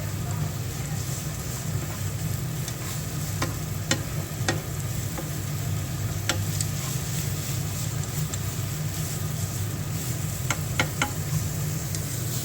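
Steady sizzling of meat and onions frying in a pan for pastitsio, a constant crackling hiss with occasional sharper pops and clicks throughout, close and fairly loud.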